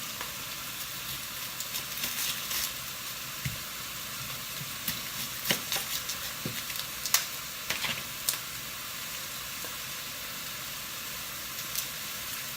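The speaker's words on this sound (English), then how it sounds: "while I'm starting to brown that in the pan" Red chili meat browning in a hot pan, making a steady hiss with a few scattered crackles and pops, moderately quiet, with no talking.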